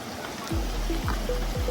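Water flows over rock at Kundi waterfall in the Sahyadri hills, a continuous low rushing wash with a few short sliding tones riding above it.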